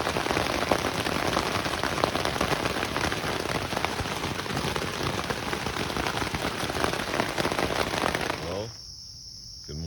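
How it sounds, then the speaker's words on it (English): Steady, dense rain patters on a taut tent fabric close by before dawn, a constant drumming that suddenly softens near the end. "It's been raining and raining. You can see the rain on my tent."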